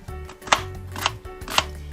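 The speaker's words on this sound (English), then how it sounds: "I'm going to finish chopping this up" An onion being chopped with a knife on a board, three sharp separate cuts spaced about half a second apart, close and distinct with no talking.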